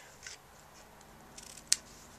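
Scissors trim paper for a handmade card, two crisp, close snips about a second and a half apart in otherwise quiet surroundings.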